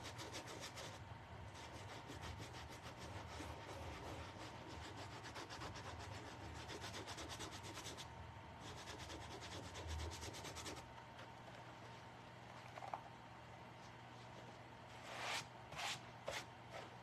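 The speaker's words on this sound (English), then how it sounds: "I'm gonna have to sand off some of this paint" Continuous close scraping of sandpaper taking thick, crumbling paint off a handmade craft piece, steady and rough, with a couple of louder knocks near the end.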